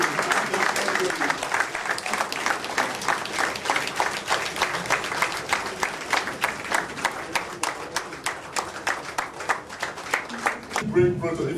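A crowd in a press hall claps steadily through a World Communication Day press briefing at a birthday reception. The applause stays close and unbroken, then cuts off abruptly near the end.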